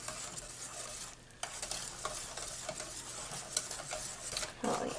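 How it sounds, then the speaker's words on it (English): Whisk stirring batter for baked apple pancakes in a bowl, soft continuous swishing with light clinks against the bowl, quiet and close. "whisk it all up again"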